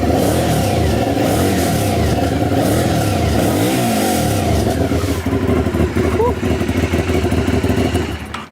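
Aprilia Shiver 900 Italian V-twin motorcycle engine revving loud and close, its deep throbbing exhaust note rising and falling continuously for several seconds before cutting off abruptly at the end.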